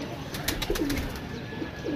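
Pigeons coo close by, soft low rolling calls repeated over a steady outdoor background.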